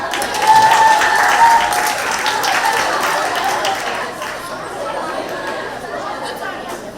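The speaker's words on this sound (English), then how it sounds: "You can clap for him." A crowd applauds for a child at an evening children's ball in a city hall, with loud, dense clapping mixed with chatter and cheering voices, fading slightly toward the end.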